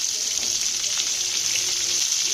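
Cinnamon stick, fennel seeds, tomatoes and green chillies sauté in a pan with a continuous bright, even sizzle, close and fairly loud, with no talking.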